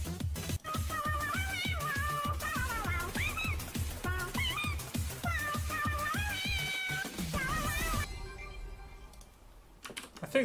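A meowing cat song plays over a live stream, repeated sung meows in a rhythmic melody with loud keyboard typing underneath, cutting out near the end.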